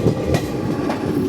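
Rajya Rani Express 17611 running on the rails near Vasind station, with a steady rumble and rhythmic clickety-clack of wheels close by, continuous and loud without talk.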